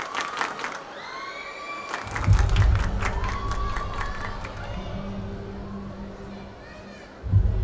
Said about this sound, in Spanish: ¡Un aplauso para los comediantes!